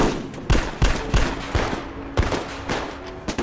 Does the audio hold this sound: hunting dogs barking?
no